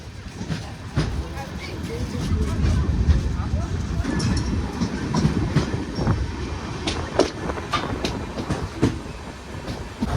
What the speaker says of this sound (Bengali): এখন আমাদের গাড়ি ছেড়ে বেড়াচ্ছে গঙ্গারামপুর রেলওয়ে স্টেশন